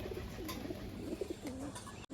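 Desi pigeons in a loft coo softly in low, rolling calls against a quiet background, with a brief thump at the end.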